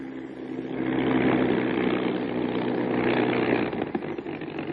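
A Bell P-39 Airacobra fighter from 1942 idles while taxiing in to park, its engine a loud, steady, throbbing drone that holds evenly throughout with no voices.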